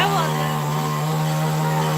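A cutter machine whines steadily nearby as it cuts trees brought down by a windstorm in a village, its droning engine note holding throughout with people talking faintly underneath.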